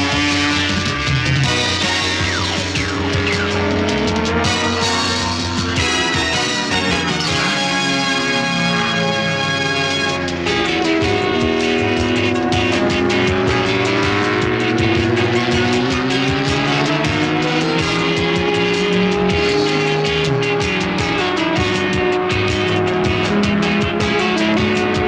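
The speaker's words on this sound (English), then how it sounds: "Freddie is off and away and looking for race leader Graeme Crosby" Racing motorcycles at the 1982 Daytona 200 roar continuously and loudly, with engine notes rising and falling as bikes accelerate and pass. The din stays dense and unbroken throughout, with no speech.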